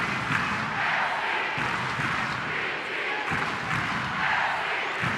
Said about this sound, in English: Crowd into it.